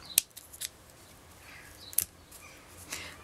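Scissors snip excess yarn from a beaded crochet piece: a few sharp, faint, isolated cuts close by, spaced irregularly with quiet handling rustles between.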